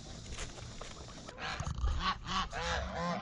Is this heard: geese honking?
yes